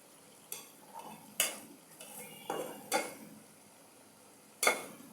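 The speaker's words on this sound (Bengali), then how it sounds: "লড়াছাড়া করে নিলাম।" A spoon scraping and clinking against a cooking pan while rohu fish curry with vegetables is stirred, making about six separate close knocks at an irregular pace over faint background hiss, with no voices.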